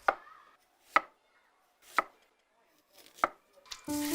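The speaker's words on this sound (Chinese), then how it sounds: "鸡肉斩块，下锅煸炒" A cleaver chops chicken into pieces on a board, five sharp, close thwacks about a second apart, followed by a sizzle of frying at the end.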